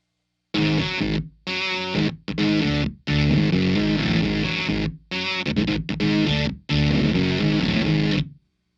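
Two bars of a heavy distorted electric guitar riff picked up by a KSM 313 ribbon microphone, loud choppy chord stabs separated by brief silences, with no talking over it.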